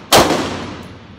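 A single gunshot at a shooting range, fired by a first-time shooter: one sharp, loud report with a ringing, metallic tail that fades over about a second.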